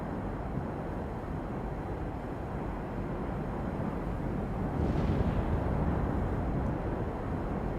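A howling dust storm sweeps through a video game demo, its steady, dense roar of wind and grit swelling slightly louder for a few seconds near the middle before settling back.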